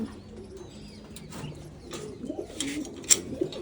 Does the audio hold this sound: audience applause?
no